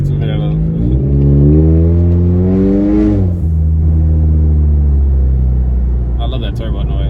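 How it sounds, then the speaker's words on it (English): A turbocharged Ford Mustang EcoBoost engine revs up and winds back down with a rising then falling turbo whine, heard from inside the car over a steady low rumble. "I love that turbo noise."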